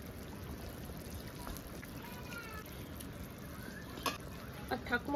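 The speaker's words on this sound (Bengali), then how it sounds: "এবার আমি ভাজা মাছগুলো দিয়ে দেবো।" Fried bata fish pieces go into a simmering, watery fish curry, a steady broad bubbling and sizzling hiss with a few soft plops and splashes near the end.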